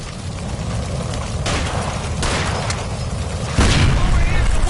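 A gas line explodes in L.A. Noire with a heavy, close boom that swells into a sustained roaring rumble, over loud continuous game noise with voices in the mix.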